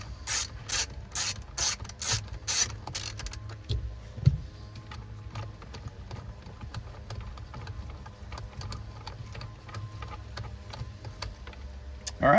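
A ratchet fitted with a T27 socket loosens the steering wheel bolt on a 3rd-gen Toyota 4Runner, giving a loud run of rapid clicking bursts over the first few seconds, then quieter scattered ticks.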